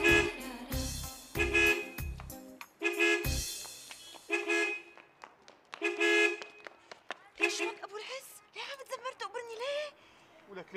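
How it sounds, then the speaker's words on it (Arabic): A car horn honks at night in a residential street in a TV drama scene, sounding in repeated loud blasts of varying length, with a voice speaking in between toward the end. "ليش عم زمر؟"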